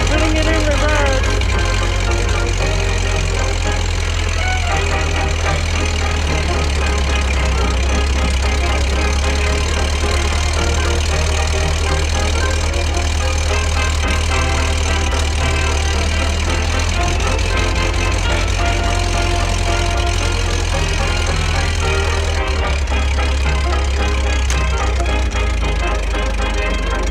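A 1926 Ford Model T touring car engine runs steadily in reverse, a continuous low mechanical chugging and rattle heard close up throughout, with a person talking over it.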